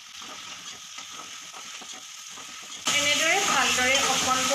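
Pasta with sauce and chopped tomato hits a hot pan and sizzles loudly after a quieter stretch, the sudden hiss continuing near and strong with stirring beneath it.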